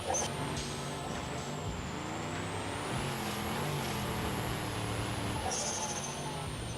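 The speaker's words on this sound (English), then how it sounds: "I love hearing the turbo kick in and out" In the BeamNG driving game, a truck's engine drones loud and continuous, with a high turbo whine climbing and easing off as the turbo kicks in and out, plus a brief hiss near the end.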